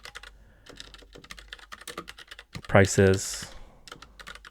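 Prompt being typed on a computer keyboard, a quick run of crisp, close key clicks in uneven bursts, briefly interrupted by a single spoken word.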